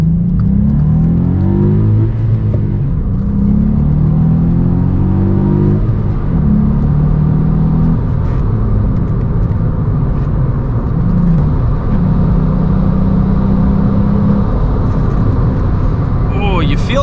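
A small Volkswagen up! GTI with a 1-liter engine pulls hard from the driver's seat, its steady engine drone rising in pitch through the gears, loud and continuous inside the cabin.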